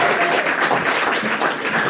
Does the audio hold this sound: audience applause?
yes